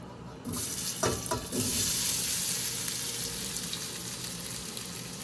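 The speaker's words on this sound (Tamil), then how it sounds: "இப்போ வந்து இந்த பொட்டேட்டோ போட்டுக்கலாம்." Potatoes dropped into hot oil in a pan, bursting into a loud, dense sizzle after a couple of thuds, then a steady close hiss of frying with no talk.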